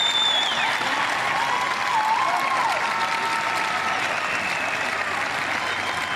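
Crowd at a Paralympic boccia gold medal match clapping and cheering, a sustained roar of applause with a few whistles rising through it, steady and loud throughout.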